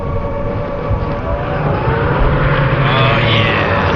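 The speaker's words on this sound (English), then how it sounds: "Planes are here." Aircraft roar overhead in a World War II Call of Duty battle scene, a dense, steady rumble of engines that swells slightly near the end, loud and continuous with no voices.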